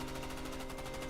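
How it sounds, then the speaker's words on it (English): Rapid automatic gunfire erupts from a tree line during an ambush, a dense, unbroken burst of rattling shots that fills the whole moment at steady loudness. "the tree line lights up with gunfire"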